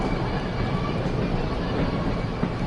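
A train rolls steadily through a station area in the Train Sim World game on PlayStation 4, a continuous close rumble and hum with no talking.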